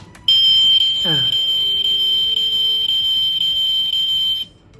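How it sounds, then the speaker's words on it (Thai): A sharp, steady electronic beeping tone from a toy model Toyota AE86 car as its door opens, close and loud, with a brief chime-like sweep near the start before cutting off. "สามารถเปิดประตูได้เดี๋ยวเปิดประตูจะมีเสียงนะครับ"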